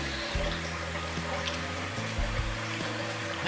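Tap water runs steadily while a face is rinsed after a shave with a double-edge razor, a continuous rushing splash with a low undertone and no voices.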